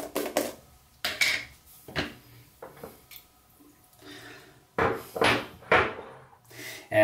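A shaving bowl is knocked to shake out its water and then set down, giving a handful of sharp, close clunks and clatters separated by brief quiet gaps, with no talking.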